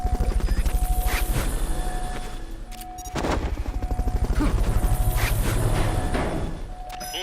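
Helicopter in the video game Metal Gear Solid Peace Walker, a steady rapid rotor chop throughout, loud and close, with a sharp impact near the middle.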